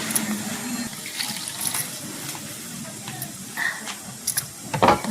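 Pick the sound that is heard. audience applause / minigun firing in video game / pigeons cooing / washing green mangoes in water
washing green mangoes in water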